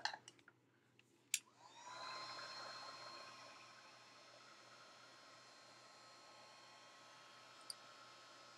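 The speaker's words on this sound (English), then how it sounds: "let me get my heat tool out and we'll dry this a little bit" Heat tool starts after a few clicks and knocks, then blows a steady soft airy hiss while drying alcohol ink on a card, close and constant.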